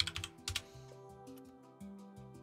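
Fast, clattering keystrokes on a computer keyboard picked up over a voice chat during a Minecraft game, close and bursty, with an occasional tonal hum or voice underneath.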